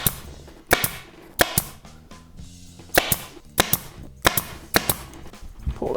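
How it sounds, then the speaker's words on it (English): A pneumatic staple gun drives staples into a rear seat cover during upholstery work on a Karmann Ghia, firing as a string of sharp, close snaps, singly and in quick pairs, with brief gaps between them. "I pull the air compressor hose out so I don't shoot a staple into my eyeball"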